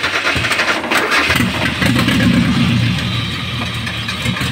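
A Mitsubishi Adventure's freshly installed 4G63 engine cranks and catches in a workshop, then runs rough and loud in a steady idle for a few seconds.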